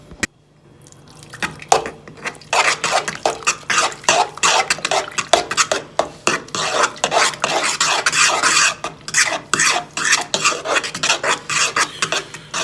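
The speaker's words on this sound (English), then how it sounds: "now let's stir the shit out of this" Homemade taco sauce stirred vigorously in a metal pot, a rapid rasping scrape of the utensil against the pot bottom repeating fast and loud, up close, for several seconds.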